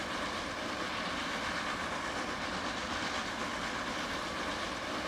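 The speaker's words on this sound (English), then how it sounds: "That is a good-looking train." A train rolls steadily along in a video game, giving a continuous broadband rumble with faint clickety-clack over the whole stretch, with no voices.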